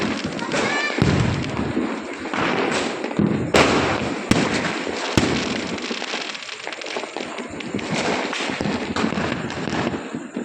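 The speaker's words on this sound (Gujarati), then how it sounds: "અવાજ આવતો હોય છે મિત્રો તમને આમાં ફટાકડાનો" Diwali firecrackers crackle and burst repeatedly, several sharp bangs standing out among a dense, continuous popping, with voices faintly mixed in.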